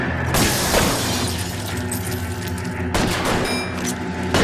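A loud, sustained burst of gunfire during an indoor shootout in the video game L.A. Noire, with rapid overlapping shots that fill the whole stretch and a sharp fresh volley near the end.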